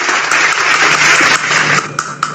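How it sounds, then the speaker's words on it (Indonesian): Loud, dense applause fills a Sunday church service, with a congregation clapping continuously and enthusiastically for the whole stretch, tailing off slightly with a few separate claps near the end. "Tepuk tangan dulu yang meriah."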